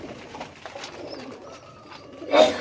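Silver pigeons cooing softly nearby, low murmuring calls with a louder coo near the end over light background noise.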